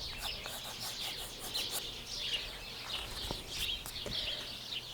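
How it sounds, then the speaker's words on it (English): Backyard birds chirping busily around a tree, a steady stream of overlapping high tweets and calls at moderate distance over a soft outdoor background, with no talking. "The birds are just going crazy back here."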